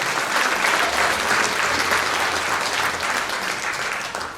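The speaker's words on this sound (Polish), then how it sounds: "Brawa!" An audience at a Lemko cultural gathering in Gorzów Wielkopolski applauds, a loud, dense wash of clapping that holds steady throughout and eases slightly at the end.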